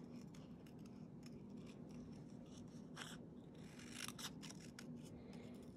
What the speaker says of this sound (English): I'm just going to just cut around here with this.